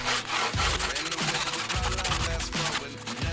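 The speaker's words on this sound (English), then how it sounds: "Start by sawing an initial curve on the top surface and then follow the line down." Rhythmic hand sawing through wood, cutting a curved entrance arch support for a root cellar, steady back-and-forth strokes repeating about every second, close and loud.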